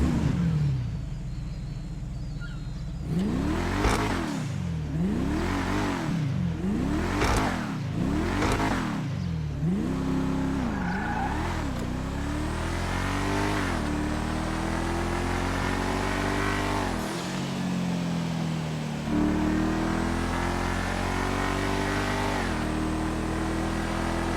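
A video-game car engine in GTA Online revs hard in a rapid series of rising and falling bursts, then settles into a sustained deep, muffled drone that climbs and dips, loud and close with no talking.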